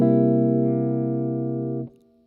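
A jazz guitar dominant 7th chord rings out, struck once loudly and sustained with a rich, slightly effected tone before being cut off, leaving a faint low hum.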